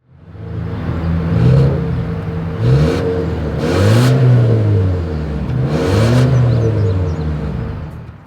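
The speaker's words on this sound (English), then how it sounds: "As always, here is that exhaust clip." A 2024 Volvo XC40's engine revs through its dual exhaust in several rising and falling bursts over a steady idle rumble, loud and close, with no talking.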